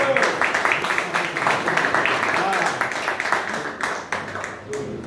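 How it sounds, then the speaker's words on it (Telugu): An audience applauding at an award presentation, brisk scattered clapping that stays steady and dense throughout, with a voice speaking over it. "చప్పట్లు చప్పట్లు గట్టిగా కొట్టండి."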